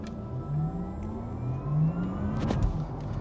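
A Porsche Taycan Turbo S accelerates at partial throttle, giving a rising electric whir with tire and road noise that swells and fades in waves, ending with a brief clatter.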